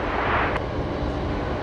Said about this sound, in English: this is Velocity 1228. Just about to begin their takeoff roll here, lined up at Alpha 3